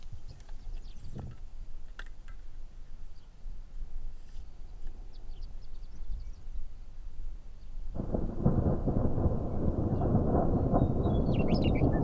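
Thunder from a supercell storm at sunset over a city rumbles low and distant, then swells into a loud, sustained roar that continues to the end.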